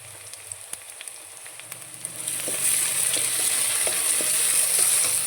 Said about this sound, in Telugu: ఆనియన్ మగ్గింది కదండి ఇప్పుడు టమాటా ముక్కలు వేసుకుందాం